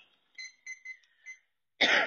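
A single person coughs in a kitchen, one short harsh burst close and loud at the end, just after a few thin electronic beeps.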